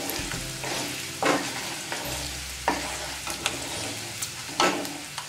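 Chana dal and buttermilk chilies fry in hot oil with a steady close sizzle, broken by several sharp scraping stirs of a spoon in the pan.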